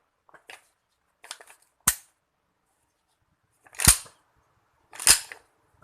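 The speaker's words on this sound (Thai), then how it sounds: "การบรรจุกระสุนลูกซองที่ ยังมีอีก หลายอย่างครับ" A shotgun is loaded with shells close up: light clicks first, then a few sharp, isolated metallic snaps spaced about a second apart in otherwise quiet surroundings, with no talking.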